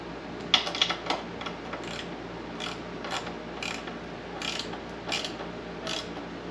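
Ratcheting clicks from tightening the chain adjuster on a Mega Moto 80/105 mini bike, a series of short mechanical clicks and ratchet bursts spaced about a second apart, fairly close and quiet.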